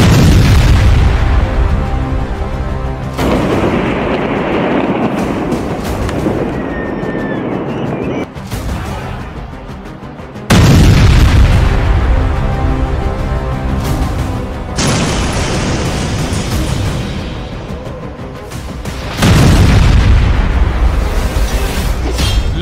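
Heavy explosions from a bombardment of Hezbollah positions in Lebanon boom repeatedly, loud deep blasts that rumble and decay, with several fresh impacts arriving every few seconds.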